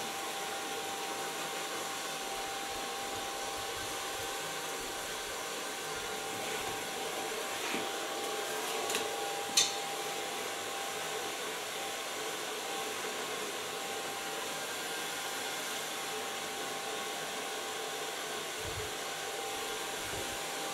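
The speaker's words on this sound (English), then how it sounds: "So far, blow dry." A hair dryer blows hair dry in a salon with a steady, even, close roar that holds throughout, and one small click partway through.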